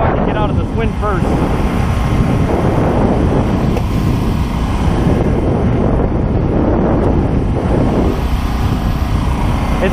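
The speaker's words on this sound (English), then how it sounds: "but I want to fucking get out of this wind first" Strong wind buffets the microphone on open water during a night of bowfishing from a boat, a loud continuous roar with low rumbling gusts throughout and voices faintly under it.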